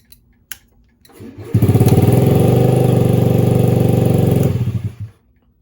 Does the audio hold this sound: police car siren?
no